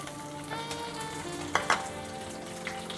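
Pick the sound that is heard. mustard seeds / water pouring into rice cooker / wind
mustard seeds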